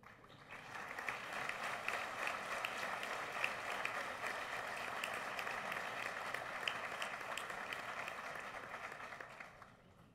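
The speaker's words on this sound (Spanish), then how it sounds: "Fuerte aplauso para este distinguido grupo de estudiantes que ocuparon los terceros lugares como promedio" A large audience at a solemn university anniversary ceremony claps in sustained, even applause that holds steady for several seconds before tapering off, heard from some distance.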